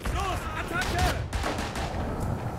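Gunfire crackles through a World War I battle in the shooter Verdun, a continuous noisy spread of distant and nearer rifle shots at steady loudness, with no talking heard over it.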